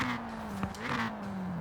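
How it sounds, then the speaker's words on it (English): Ford Racing Puma in Forza Horizon 4, a steady droning engine note held near its peak, with a brief sharp blip on a downshift where the rev limiter cuts in, no talk. "I hit the limiter on the downshift."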